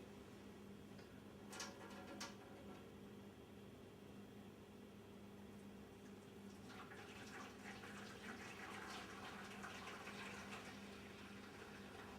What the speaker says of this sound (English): We're just going to pour that in slowly.